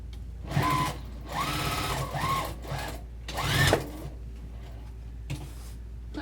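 A sewing machine runs in short bursts of back stitching through a vinyl tote bag, each run a few seconds of close, steady mechanical whirring with brief pauses between, and no talk.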